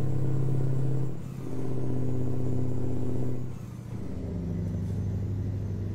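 Car engine in a racing video game with manual gears, revving hard and dropping briefly twice as gears shift, then climbing again in a steady loud drone.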